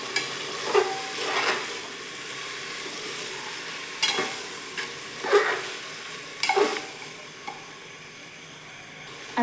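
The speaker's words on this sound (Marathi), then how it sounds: "आता तांदूळ व्यवस्थित परतलाय बघा" Soaked, washed rice being stir-fried with masala in a pan gives a soft, steady sizzle, with a few louder scraping stirs scattered through it and no talk.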